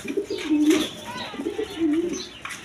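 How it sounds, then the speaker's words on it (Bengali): A pair of shirting pigeons coo nearby in soft, throaty, repeated calls, with a couple of rolling coos and faint background chatter and chirps. "দর্শক বন্ধু, এখানে এক পেয়ার শার্টিং কবুতর।"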